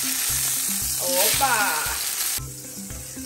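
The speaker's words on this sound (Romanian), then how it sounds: "Aici eu i-am prăjit șuncă." Ham sizzles and crackles in a frying pan on a home stove, a loud steady sizzle close by, with a brief exclamation from a voice over it.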